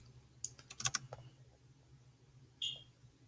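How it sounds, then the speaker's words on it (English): Computer keyboard keys pressed while editing a document, a few quick close clicks in a short burst, then a single keystroke after a pause, over a quiet steady hum. "Keep pressing backspace till you reformat it."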